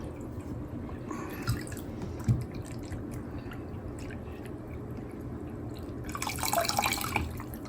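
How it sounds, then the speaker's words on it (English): Coolant trickles and drips steadily through the freshly plumbed tubing of a water-cooled i9-14900KS PC loop, a quiet close gurgle that swells into a brighter splashing burst near the end. "See, the water is still flowing."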